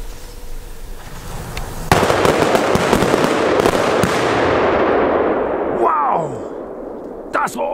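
Polish firecrackers and ground salutes blast in a dense, loud barrage of cracks and booms, with a sharp burst at the start and scattered pops near the end as a whistling rocket streaks through.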